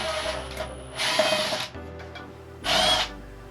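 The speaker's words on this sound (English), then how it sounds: "There's 2 screws. We need to take those off." A power drill takes screws out of a ceiling fan in three separate bursts of high whirring, each about half a second long, with quiet pauses between them and no talk.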